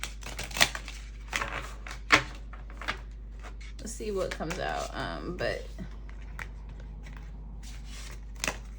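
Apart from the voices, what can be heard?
shuffling tarot cards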